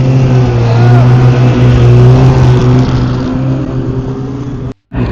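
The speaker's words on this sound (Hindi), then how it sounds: "जैसे वो बाइक जा रहा है ना, बाइक यहाँ से बाइक जाएगा" A motorbike runs along a snowy road in Sonamarg, Kashmir, its loud, close, steady engine drone holding a constant pitch before it fades slightly and cuts out for a moment near the end.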